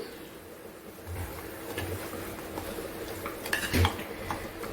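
A spoon scrapes and clinks against a pot while stirring a raw mango curry with bone meat, soft sloshing and a few louder metallic knocks over a faint sizzle.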